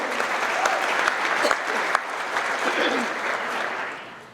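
A crowd at a trucking company's monthly employee awards celebration applauds loudly and steadily, with scattered cheers and whoops over the clapping.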